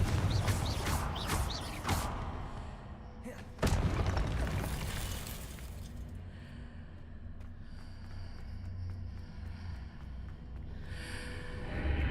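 A Confringo fire-blast spell exploding in the video game Hogwarts Legacy: a burst of crackling blasts with one sharp loud impact, then a fading rumble under a quieter, steady game ambience.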